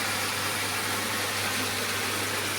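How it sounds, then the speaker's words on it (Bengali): Steady electric motor of a water pump running continuously, a constant hum with a fixed low tone and a broad whirring hiss, close and even with no voices. "কাকা অত্যন্ত খুশি যে কাকার মোটর চালু হয়েছে"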